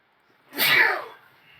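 A single sharp sneeze, close and clear, followed by quiet.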